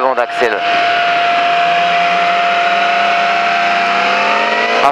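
A motorcycle on a race track at full throttle, the engine holding a loud, steady high-pitched drone close by after a brief revving rise at the start.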